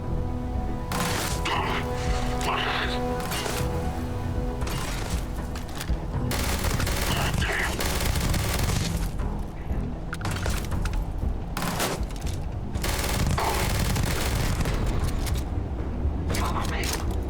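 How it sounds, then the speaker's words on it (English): Rapid gunfire from the sci-fi video game Starfield crackles in dense, overlapping bursts and volleys across the whole stretch, loud and close, with a voice talking over the shooting. "Taking fire."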